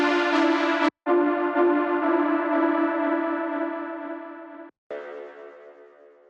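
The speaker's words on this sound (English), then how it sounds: "So we have this sample and then like a saw sound, and it's filtered out as well." A filtered saw synth sample from an Afro-tech house hybrid track's main drop rings as a bright sustained tone drenched in delay and reverb, cut by two brief gaps as it repeats.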